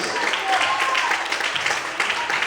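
Dense, steady applause from a large church congregation fills the whole stretch, loud and continuous, with faint voices mixed in.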